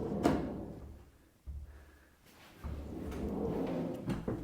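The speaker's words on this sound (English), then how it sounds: "And it slides on these rollers." A homemade sliding door in a seaside home rolls along its rollers with soft rumbling, a sharp knock and then a longer sliding run, quiet and close.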